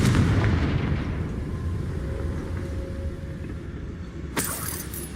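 A Confringo fire spell bursts in Hogwarts Legacy with a deep booming rumble that fades slowly, then a sharp bright crack near the end, loud and with no talking.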